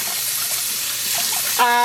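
Water runs steadily from a tap, a continuous broadband rush that swells slightly louder near the end, with a faint tonal hum appearing as the flow changes.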